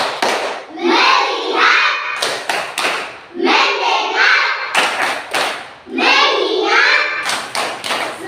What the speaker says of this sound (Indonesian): mari kita tepuk fokus